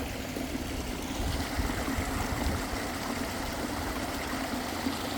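A gently flowing stream gives a steady, soft wash of water with a low continuous rumble underneath, unbroken and even throughout.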